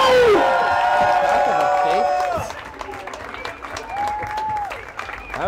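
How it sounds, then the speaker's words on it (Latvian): Audience applause and cheering welcome a guest onto a Latvian podcast stage. Loud clapping mixed with whoops and a musical jingle fades after about two seconds, then voices chatter over scattered claps. "Uz bazaru tiek aicināts Roijs Rodžers, aplausi!"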